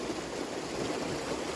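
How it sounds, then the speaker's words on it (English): Water runs steadily through a channel cut across a homestead field, a close, continuous rushing and gurgling with no voices. "the water that's coming down through the middle of this field is temporary"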